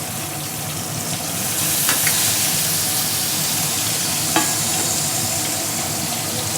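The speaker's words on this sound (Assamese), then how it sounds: "কেৰাহীটো গৰম হৈ গৈছে মই জুইটো মিডিয়ামত ৰাখিছোঁ আৰু এতিয়া ইয়াত মাছ দিয়া দি দিছোঁ" Fish frying in hot refined oil in a wok over medium heat, a continuous dense sizzle that swells slightly and holds steady, with a couple of faint clinks from the pan.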